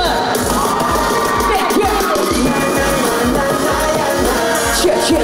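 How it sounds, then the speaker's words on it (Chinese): A crowd at a street dance competition screams and cheers, a loud, continuous roar of voices. "尖叫声。"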